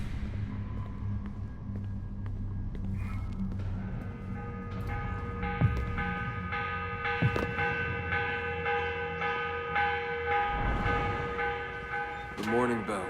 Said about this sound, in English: The morning bell. God, I hated that.